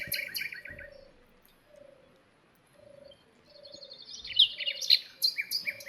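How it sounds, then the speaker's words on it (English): Bird calls ring out: a repeated, evenly spaced soft cooing note runs throughout, joined by brighter chirps and sharp squawks toward the end, close and clear with no talking. "P for parrot."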